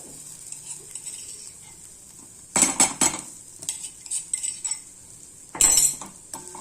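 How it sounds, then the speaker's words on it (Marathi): Grated coconut is sautéed and stirred in oil in a metal pan, with bursts of loud scraping and clinking of a spatula against the pan over a faint background sizzle. "तेलामध्ये चांगले ब्राऊन होईपर्यंत परतून घेऊया"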